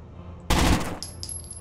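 A single loud gunshot burst in the video game Rainbow Six Vegas, followed by faint high-pitched ringing and small clinks, with a quiet hum before it.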